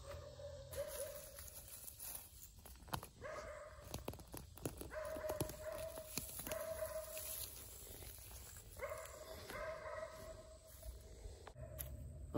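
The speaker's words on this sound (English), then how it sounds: "Excuse the barking dog in the background." A dog barks repeatedly in the distance, in short, irregular bursts over a quiet outdoor background.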